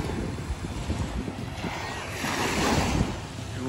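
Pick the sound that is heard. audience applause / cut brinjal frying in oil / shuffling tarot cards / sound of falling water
sound of falling water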